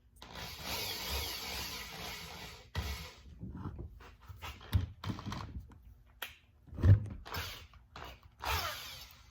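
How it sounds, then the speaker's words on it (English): A power drill twisting wire into a fishing-lure line tie whirs in short bursts, spinning up and stopping several times with clicks and rattles in between, close by. "then you spin your drill, and it makes a nice twist"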